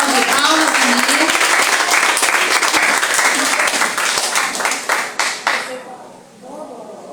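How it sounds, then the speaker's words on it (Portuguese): A church congregation at a deliverance service claps loudly to welcome the pastor. Voices mix into the dense applause, which breaks into a few scattered claps and then stops, leaving quieter talk afterward. "Vamos receber o nosso pastor louvando a Jesus com a salva de palmas"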